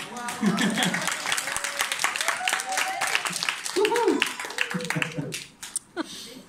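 Crowd applause at a conference talk, with dense clapping running through, overlapped by a person talking over it.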